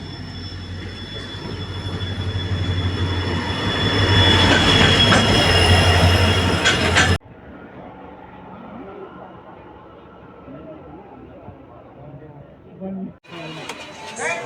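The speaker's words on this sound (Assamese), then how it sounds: "ফাইনেলি ট্ৰেইন আহি গ'ল গাইছ" A train arrives at a station with a loud, close rumble and squealing wheels that builds for several seconds, then gives way to a quieter, more distant platform ambience.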